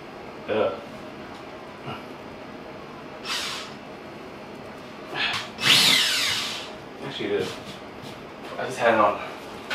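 Power drill running in jackhammer mode during a home repair job, heard in short, fairly faint bursts of hammering buzz spread across the clip against a steady background hiss.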